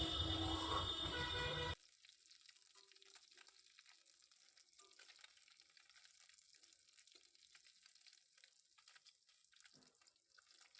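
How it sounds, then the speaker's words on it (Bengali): Potatoes fry in a pan at night in a home kitchen, a faint, steady crackling sizzle after a brief louder burst at the start, with occasional small clinks and no talk. "এখন আলু ভাজা হচ্ছে,"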